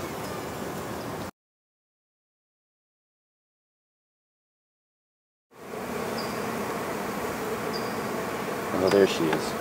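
Bees hum steadily around a backyard beehive, a continuous close buzzing that cuts out abruptly into silence for several seconds, then returns at the same level with a brief louder pass near the end.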